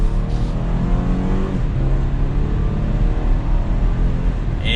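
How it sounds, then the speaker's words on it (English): A 2022 BMW X3 xDrive30i with a 2-liter twin-power turbo engine accelerating in sport mode, a steady loud engine drone rising in pitch from inside the cabin, with road noise underneath. "So in sport mode here, we'll give it a little bit of gas."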